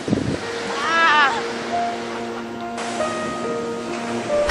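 Ocean waves washing onto a beach, a broad soft surf wash with gusty wind, heard beneath brief voices and tonal background sounds.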